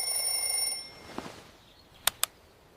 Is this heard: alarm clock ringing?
yes